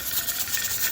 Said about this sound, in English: That's the sound of the jiggler.